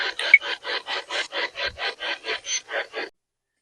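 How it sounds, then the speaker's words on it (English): A broom sweeps a floor in about a dozen even, rhythmic scratchy strokes, close and fairly quiet, then stops. "I think it's just from sweeping."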